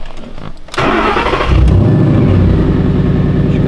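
A car engine cranks briefly, catches with a loud burst and settles into a strong, steady idle close by, with no talking.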